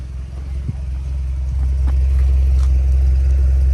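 A VW Golf 5 with a decatted exhaust idles with a deep steady rumble, low and continuous, growing slightly louder near the end, with a faint knock early on.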